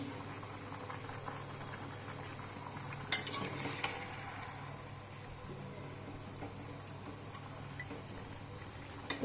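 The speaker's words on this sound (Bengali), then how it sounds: "লাউ আলুটা কষাচ্ছি আমি।" Bottle gourd and potatoes sautéed with garlic in a pan, giving a steady low sizzle with a few scraping stirs of a utensil against the pan, close and fairly quiet, with no one talking.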